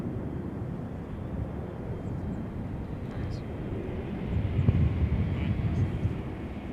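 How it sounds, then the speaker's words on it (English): American Airlines Boeing 737-800 jet taking off at Charlotte airport, a steady broad engine roar heard from a distance, swelling louder near the end, with wind noise on the microphone. "This one I just took off was American Airlines 1650, Boeing 737-800, headed to already Chicago."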